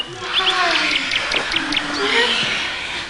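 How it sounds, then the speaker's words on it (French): A songbird sings in a rapid run of bright chirps and trills while someone narrates over it in French, the birdsong sitting clearly beneath his voice. "les mots sont de bien peu d'effet sur un rossignol qui chante aussi admirablement"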